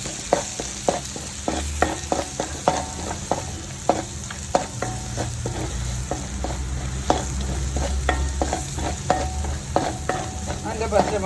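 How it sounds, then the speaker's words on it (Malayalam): Garlic paste and onions sautéing in hot oil for a chicken curry, a steady close sizzle broken by frequent sharp scrapes and clicks of a spoon stirring against the pan. "വെളുത്തുള്ളി പേസ്റ്റ് ഒന്ന് വഴട്ടാനിട്ടു."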